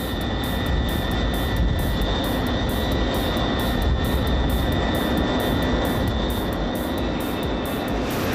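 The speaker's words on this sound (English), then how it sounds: "massive carbon fiber fan spins at an astounding speed of 42 revolutions per second, pulling in vast amounts of air" A large jet engine with a carbon fiber fan runs at steady, loud power, giving a continuous roar with a high whine over it and no breaks.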